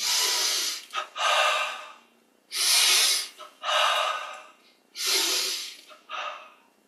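Three deep, forceful breath cycles during a yoga breathing exercise, each a long loud inhale followed by a long loud exhale through the nose, close and breathy, separated by short quiet pauses.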